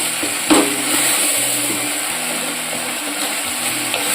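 Brinjal pieces frying over a medium flame in a clay pot, a loud continuous sizzle with a sharp knock at the start and intermittent stirring scrapes throughout.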